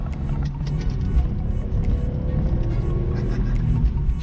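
BMW E46 M3 project car driving after repairs, a continuous close cabin engine and road drone with steady low rumble and slight rising and falling revs throughout.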